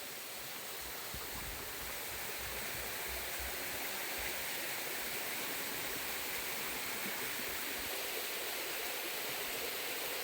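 A forest stream flows and babbles nearby, a soft, continuous rushing wash of water that stays even and fairly faint from start to finish.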